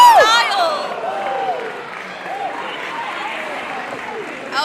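A crowd at a Mission Pro Wrestling women's match roars and cheers, loudest at first and then settling into a steady rumble beneath a commentator's voice.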